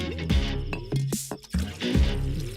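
Liquor and water pour into a glass and get mixed, a few short close splashes and trickles with brief pauses between them, no one speaking.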